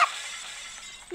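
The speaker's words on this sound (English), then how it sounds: "You smashed the glass, bro." Glass smashes in a Roblox obby game: one sudden bright shattering crash at the start, then a short tinkling fade as the shards settle.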